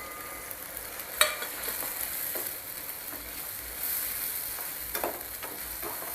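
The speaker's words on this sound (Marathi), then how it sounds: "हा जो पावडर मसाला आहे ते घालूया आणि परतून घेऊया सगळं." Powdered masala being sautéed in oil in a pan for an egg curry: a faint, steady sizzle with occasional scraping stirs and light clinks, close by and without talking.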